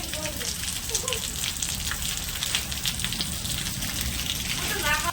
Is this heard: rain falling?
yes